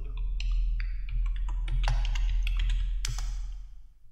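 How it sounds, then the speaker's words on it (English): Password keyed in on a computer keyboard: a quick, uneven run of close, soft key clicks and taps over a low steady hum, tapering off at the end. "so obviously I need to type my password"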